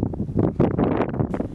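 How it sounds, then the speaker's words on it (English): Cold wind near the top of Georgia Pass on the Colorado Trail, at about 12,000 feet, buffets the microphone in loud, gusty, continuous roaring bursts. "A cold wind was battering us"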